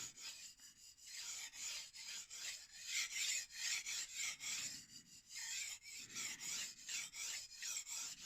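A blade rasps back and forth across a 10,000-grit whetstone in steady, rhythmic strokes, close up and quiet, with no voices.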